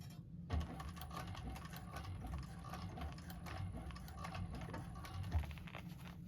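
Cylinder-arm sewing machine stitches a coffin-shaped handbag in a continuous fast, even clatter throughout, fairly faint but close, with no talking.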